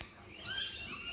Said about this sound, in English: We have a lot of parrots flying around this morning.